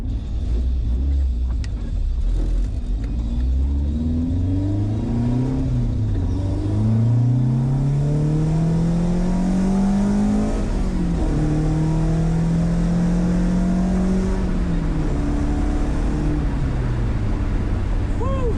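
A restored Honda CRX with a B16 engine drives along, its engine note climbing steadily through the gears with a continuous low rumble; a loud, close in-cabin sound with no talking.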